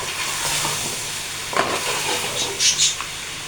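Ridge gourd frying in a pot gives a steady close sizzle with occasional stirring clicks and a few sharper metallic scrapes near the end.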